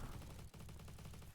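Burst weapon firing in Roblox Bad Business, a fast stream of evenly spaced shots, faint and steady, with a brief pause midway.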